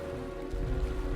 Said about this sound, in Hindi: अचानक एक सुबह काले बादल छा गए और तेज बारिश होने लगी